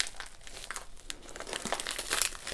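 Packaging of a diamond painting kit is pried open by hand, giving a run of crisp plastic crinkles and crackles that grow louder toward the end, with no talking over them.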